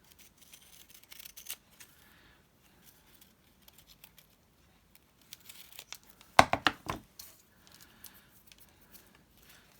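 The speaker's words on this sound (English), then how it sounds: "And then I use my fancy scissors." Wax paper is snipped with decorative scissors in soft, sparse crinkles, then a brief burst of louder cutting and rustling near the middle, close by and quiet.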